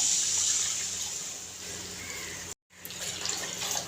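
Water poured from a glass into a pan of frying masala for besan wadiyan, a steady broadband rush and trickle that cuts out briefly, then resumes with a sizzling hiss.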